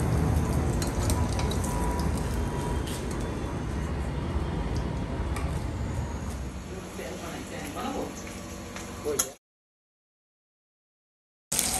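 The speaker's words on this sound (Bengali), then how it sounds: "মাছ ভাজা হয়ে গেছে প্রায়। মাছগুলো দেখুন একদম লাল লাল করে তুলে নিয়েছি।" Fish fries in a pan of hot oil with a dense, continuous sizzle that holds steady for several seconds before cutting to silence, while a voice talks at times in the background.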